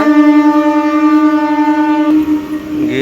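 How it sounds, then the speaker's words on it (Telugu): A loud, sustained horn of a train bound for Machilipatnam from Vijayawada blares steadily at close range, then cuts off, leaving rumbling railway noise behind. "ఈ ట్రైన్ అయితే మనకి మచిలీపట్నం అయితే వెళ్ళింది"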